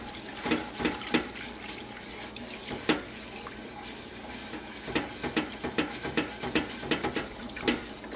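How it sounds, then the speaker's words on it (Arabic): Sugar is stirred into cold water in a pot to make basbousa syrup, giving a run of light clinks and watery swishes at an uneven rhythm, close and fairly quiet, with no talking. "وغادي نحرك مزيان، نحاول داك السكر ندوبو في الماء بارد هكا، يذوب في الماء وهو بارد"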